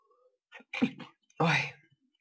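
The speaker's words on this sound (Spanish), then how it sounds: "Uy, qué estornudo más chungo." A single sharp human sneeze in Mount & Blade Warband, a brief inhaled build-up followed by a loud, explosive burst, close and clear against near silence.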